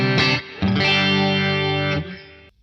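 Electric guitar chords played through a Boss Katana amp's chorus effect, loud and close, with a thick shimmering, slightly distorted tone; a short chord is followed by a longer sustained one that fades out, with no voice.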